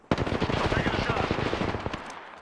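Rapid automatic gunfire in the Apex Legends video game, a loud, sustained burst of dense cracking shots lasting about two seconds before tapering off.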